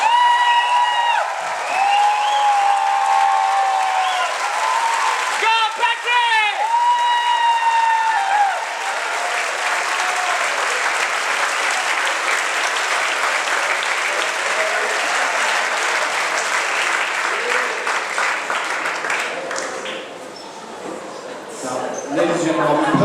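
An audience claps for about twenty seconds after Patrick Teoh's standup comedy debut set. The ovation is loud and sustained, with some cheers and a few voices near the start before it gradually thins out.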